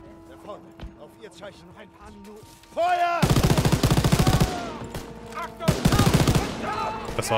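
Bursts of rapid automatic gunfire from Call of Duty: WWII, loud and sustained with a short pause between, following quieter game sounds and faint voices.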